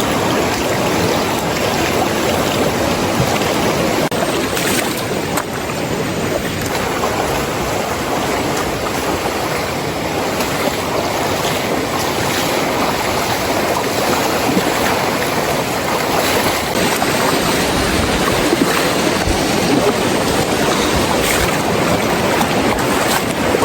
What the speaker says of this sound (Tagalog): kailangan naman natin tawirin itong ilog. So pangalawang river crossing natin to. Hanggang tuhod lang naman.